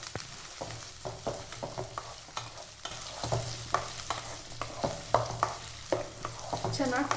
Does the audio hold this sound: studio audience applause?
no